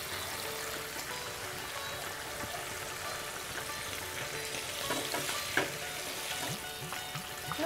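Fish pieces fry in oil in a pan for a Bengali fish moilee curry, giving a steady, soft crackling sizzle with small stirring clicks and occasional louder pops, with no voices.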